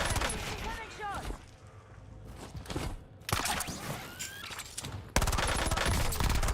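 Warzone gunfire in a rapid, sustained stream of automatic shots, loud and close with brief pauses, mixed with game effects and players talking.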